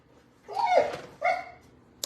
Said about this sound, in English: Can you guess that my neighbor is outside with their dog?